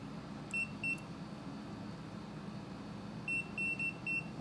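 A multimeter beeps on a continuity test across transformer windings during an Ensemble RXTX radio build, giving short faint high tones, two early and a cluster of four near the end, over a low steady room hum.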